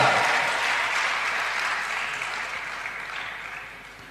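Audience applause at a spiritual discourse, a steady broadband clatter of many hands that starts loud and fades gradually over about four seconds, heard alone with no talk.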